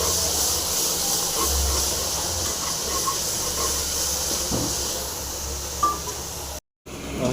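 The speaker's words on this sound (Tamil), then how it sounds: "வெங்காயம் வந்து சீக்கிரமாக ஃப்ரை ஆகிடும் ஓகேங்களா நல்லா ஃப்ரை ஆகட்டும்" Onions fried in a pan for vegetable sambar with curry leaves, giving an even, continuous sizzling hiss at close range with only a few small crackles, no voices.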